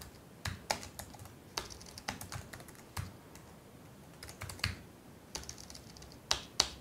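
Fingers type on a computer keyboard in quick, irregular bursts of crisp clicks with short pauses between, close and alone without any talking.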